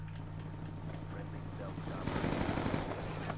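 Light machine gun fire in the Black Ops 2 video game, rapid bursts of shots growing denser and louder toward the end over a constant game background hum.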